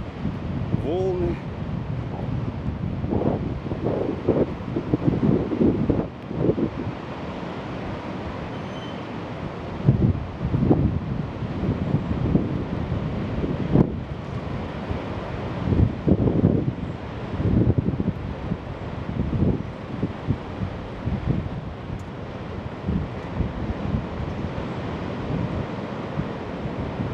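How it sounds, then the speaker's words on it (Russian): Huge stormy Black Sea waves crash and roar under strong gusting wind that buffets the microphone, surges rising and falling for the whole stretch, with a voice talking over it. "Какие-то немеренные совершенно волны."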